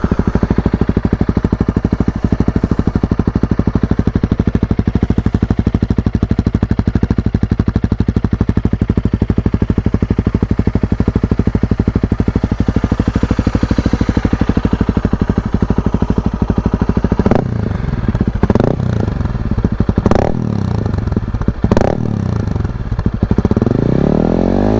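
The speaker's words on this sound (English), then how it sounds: "let you hear the Yoshimura RS4 full system exhaust with a 550 ECU tune" A Honda CRF 300L motorcycle with a Yoshimura RS4 full system exhaust and a 550 ECU tune idles loudly nearby with a steady throbbing beat, then gets several sharp throttle blips near the end.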